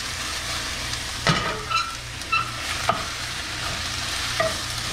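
Peppers and onions sizzling steadily in a pan, with a constant close frying hiss and a few light scrapes or shakes of the pan.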